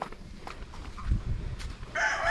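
A rooster crowing at a chicken farm, a loud drawn-out call toward the end over faint background clucks and light thumps.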